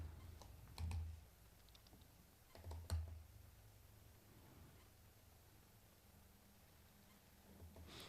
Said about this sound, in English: I'm manually typing in a link because I'm grabbing it off a video feed.